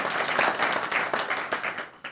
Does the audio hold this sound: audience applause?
yes